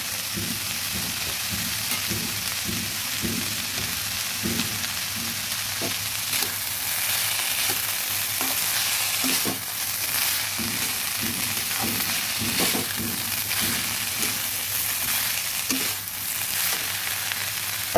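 Chopped banana stem and fried potatoes cook in a hot pan for a Bengali vegetarian dish, giving a steady, continuous sizzle throughout with intermittent scraping stir clicks, close and moderately loud.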